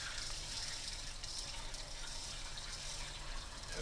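Fine soil material poured through a funnel into a cylinder, a steady continuous hiss and rush of falling grains, close and even throughout.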